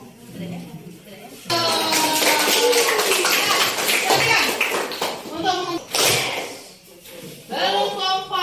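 Children clap their hands together in rhythm in a classroom, lively patterned claps filling the space alongside children's voices and an adult speaking over them.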